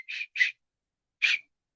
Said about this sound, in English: I'll be using the whistle